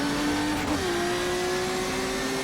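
A BMW 320 IMSA GTO race car in the rFactor 2 sim at Sebring holds a steady engine drone that dips in pitch as the driver eases off, then settles into a constant tone.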